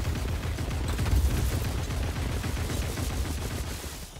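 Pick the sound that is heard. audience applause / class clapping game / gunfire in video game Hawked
gunfire in video game Hawked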